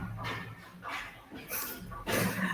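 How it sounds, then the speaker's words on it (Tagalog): A dog indoors gives a run of short yelps and whimpering barks in quick succession, close to the microphone with a little room echo. "Teka lang ha, may aso. May aso nakapasok."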